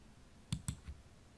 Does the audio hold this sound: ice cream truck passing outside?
no